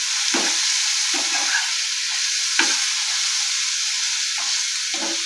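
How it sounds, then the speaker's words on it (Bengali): Vegetables stirred and fried in a pan for South Indian curd rice, with a steady sizzle throughout and several bursts of spoon scraping and stirring at intervals, close and alone. "এটা ততক্ষণ পর্যন্ত নাড়াচাড়া করব যতক্ষণ পর্যন্ত না এই সবজিগুলোর কাঁচা গন্ধ চলে যায়।"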